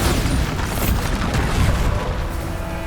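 Bombarda blasting spell explosions in the Hogwarts Legacy game produce a continuous loud, booming rumble with crackling bursts layered over it, dense and close throughout without a pause.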